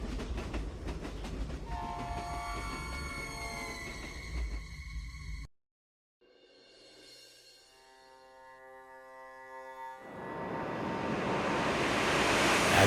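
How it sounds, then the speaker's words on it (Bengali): A train in a horror story arrives with a loud horn and rumbling, clattering rails, cuts to silence, then rolls back in with a rising tonal horn and a swelling roar that grows louder to the end. "বাদলের এটা বলা মাত্রই সেই ট্রেনটা আবার দেখা দিয়ে দিল।"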